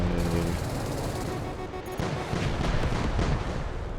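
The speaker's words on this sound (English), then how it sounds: "Let's send a couple missiles that way." Missiles fired from a Mirage 2000 jet in the Metalstorm combat flight game, a continuous roaring launch rumble with crackling bursts over steady engine noise, loud throughout.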